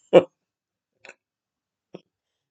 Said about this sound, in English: I got burping going on.